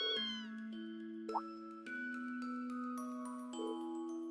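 A video game character in Trails of Cold Steel meows like a cat, several short tonal mews in a row, clear and fairly quiet against a soft game background.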